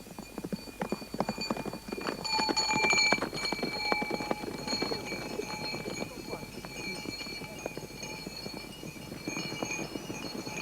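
Hooves drum in a fast, steady clip-clop as horses gallop in a Tibetan horseback race, continuous and fairly close, mixed with ringing bell-like tones from the riders or tack.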